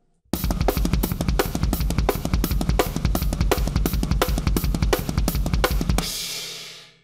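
Drum kit plays a fast, steady rock rhythm with driving kick and snare hits and busy cymbals, using a fake double-pedal technique, loud and close, ending on a ringing cymbal that fades out.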